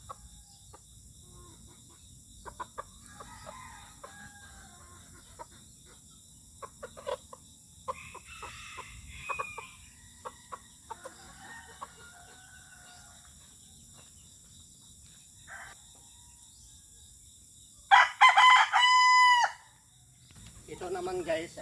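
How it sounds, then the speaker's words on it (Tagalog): A young rooster of about three months gives a loud, close crow near the end, after scattered soft clucks and calls from chickens over a constant drone of insects. "Ano to magandang klase itong manok."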